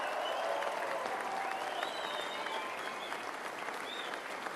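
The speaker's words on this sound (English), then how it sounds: "Give them a round of applause." Crowd applause at a Canada First political rally in Fredericton, steady dense clapping with cheering voices and whistles throughout, loud and continuous.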